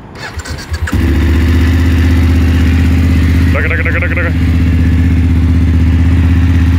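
A 2021 BMW F850GS 40 Years Edition motorcycle fires up via keyless start: brief starter whir, then the parallel-twin settles into a loud, steady close-up idle with a faint mechanical clatter.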